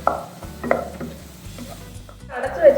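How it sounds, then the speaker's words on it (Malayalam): Green chilli, ginger and garlic are sautéed in a pan: soft sizzling sits under scattered scrapes and knocks of a utensil stirring, close by, building to a louder burst of frying at the end. A low hum runs throughout. "ഇഞ്ചി വെളുത്തുള്ളി ഇതെല്ലാം കൂടി ചേർത്തിട്ട് നന്നായിട്ടൊന്ന് വഴറ്റി കൊടുക്കാം"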